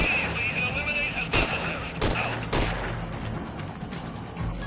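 Gunfire in the stealth action game Metal Gear Solid V: several sharp shots burst out at uneven intervals over a steady background hum, with a radio-style voice speaking between them.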